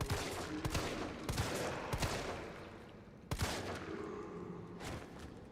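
Gunshots in the Resident Evil 3 Remake video game: a series of sharp, separate shots spaced a second or so apart over a continuous background of game noise, with no voices.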